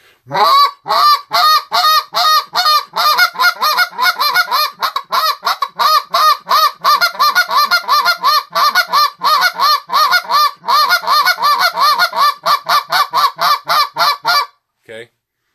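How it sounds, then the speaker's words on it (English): A goose call blown loudly as an old-school comeback call, in rapid, choppy bursts of honks and clucks, nearly continuous for about fourteen seconds, ending with one short honk. "it's kind of an old school comeback call"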